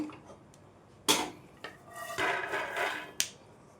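Roasted peanuts, unpeeled, are scraped and tipped from a pan onto a plate: sharp metallic taps and clicks, then a rustling scrape of nuts sliding, all close and fairly quiet.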